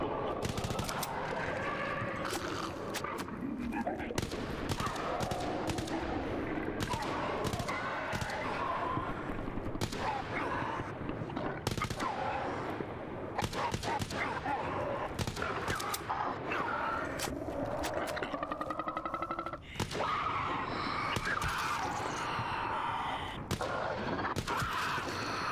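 Rapid automatic gunfire from the zombie shooter Vorax (alpha build) rattles continuously in dense bursts, loud and close, with a few brief pauses and scattered background game noise throughout.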